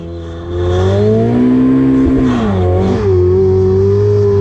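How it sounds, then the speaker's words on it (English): A Ferrari 488 Pista sits on a drag strip warming its tyres, engine roaring loud and close with steady high revs and a rising, wavering pitch as the wheels spin, sustained throughout with no talk. "do you want to warm your tyres up a bit?"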